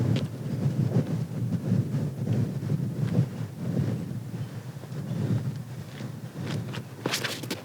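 Wind gusting across an outdoor disc golf course during a championship round, a steady low rumbling buffet on the microphone that rises and falls throughout, with no voices heard.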